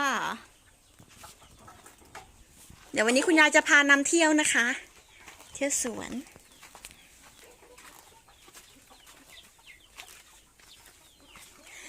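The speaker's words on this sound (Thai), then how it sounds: "เดินเข้ามาก็จะพบกับไก่เนื้อนะคะ" Broiler and laying hens on a small mixed farm cluck in bursts, loudest in the middle, while someone talks over them.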